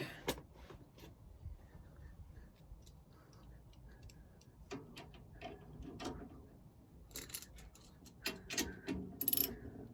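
A wrench tightening a threaded fitting during a handling fix on a 2016 Thor ACE 29.3 motorhome, with quiet intermittent metallic clicks and ratcheting ticks that grow more frequent and louder toward the end.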